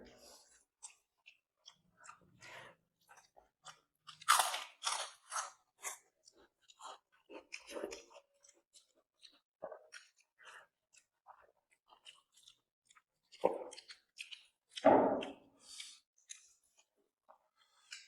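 A mixed vegetable thali is eaten up close, with soft, intermittent chewing and crunching in irregular bursts and quiet gaps, some louder bites standing out, and no talk.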